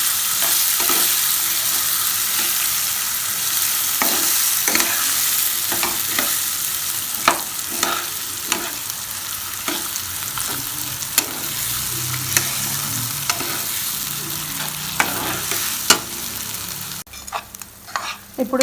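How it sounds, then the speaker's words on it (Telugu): Raw mango stirred and mixed in a frying pan while making mango pulihora, with steady sizzling and repeated scraping strokes of a spoon across the pan, close and continuous with no talk. "పచ్చి మామిడికాయ కూర కూడా వేసుకొని ఇదంతా మిక్స్ చేసుకోవాలి"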